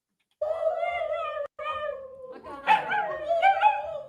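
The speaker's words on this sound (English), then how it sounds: "They howl." Dogs howl together in a played-back clip, with long wavering cries overlapping each other and a short break partway through, moderately loud and unaccompanied by speech.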